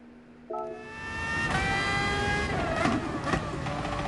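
Race car engine in the video game Gran Turismo Sport, a steady close drone with rising revs and shifting gear tones, running alone without talk.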